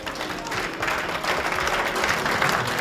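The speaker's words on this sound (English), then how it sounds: "Oakland, can you clap through Zoom?" A church congregation in Oakland claps together during a worship service, a dense, steady wash of many hands that holds loud and continuous throughout, with faint voices mixed underneath.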